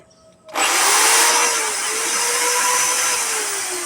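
A Stanley power drill switches on abruptly and runs at a loud, steady, high-pitched whine, close up with no other sounds.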